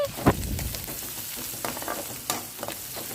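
Salted onions with a little turmeric frying in a pan for veg Maggi noodles, a continuous close sizzle punctuated by several sharp stirring clacks; no talking.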